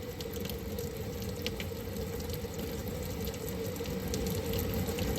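Hot tap water runs steadily over a plastic Mainstays 9-inch high-velocity fan blade as it is washed with soap, a continuous close splashing rush with no talk.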